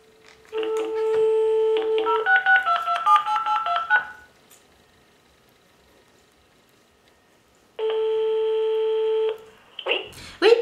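DTMF keypad tones from a telephone being dialed to call someone back: a quick run of stepped two-tone beeps for a few seconds, a pause, then a single long steady tone near the end, with no voices.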